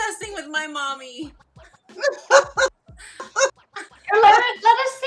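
A rescue dog yips and whimpers in short high bursts close by, alternating with someone talking, the barks uneven and excited.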